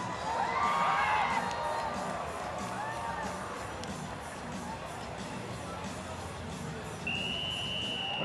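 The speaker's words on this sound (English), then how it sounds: "when the gate opens, we're going to cheer." Rodeo crowd cheering as the chute gate opens, a broad roar of voices with whoops and whistles, loudest at the start, easing off, then a long high whistle rising near the end.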